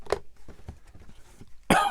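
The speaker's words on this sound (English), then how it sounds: "I keep coughing" One faint, hoarse cough bursts out near the start, followed by quiet soft rustling and a louder burst of noise at the end, in a quiet indoor room.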